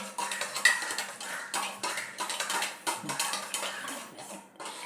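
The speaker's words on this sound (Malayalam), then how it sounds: "അപ്പം അങ്ങനെ മോരെല്ലാം ഇളക്കി" A spoon stirs buttermilk in a home kitchen, giving a steady run of faint clinking and scraping strokes against the vessel, alone with no voices.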